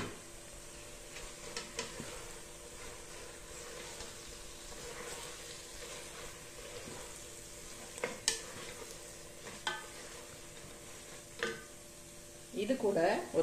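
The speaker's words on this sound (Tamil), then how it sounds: "தக்காளி நல்லா வதங்கட்டும்." Tomatoes sautéing in a pan with a handful of coriander and mint, a soft low sizzle broken by occasional stirring scrapes and clatters, with a louder burst of stirring near the end.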